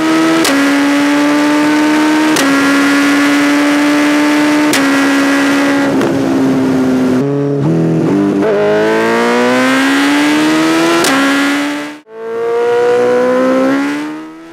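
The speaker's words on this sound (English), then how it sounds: "That's the Suzuki Hayabusa." Loud and close, a Suzuki Hayabusa motorcycle engine idles and revs. A steady harmonic drone is punctuated by sharp blips, then climbs in pitch through a long rev and drops out briefly before returning.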